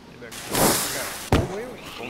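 Fireworks go off in the DayZ video game, a broad crackling burst followed by a sharper bang a moment later, with excited voices talking over them.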